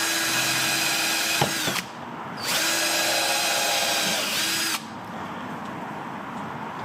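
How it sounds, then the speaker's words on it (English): Power drill boring pilot holes through marked spots clamped against a wood block in a garage, two loud sustained whirring runs separated by short pauses, close up with no talking. "clamp down, gonna pilot hole"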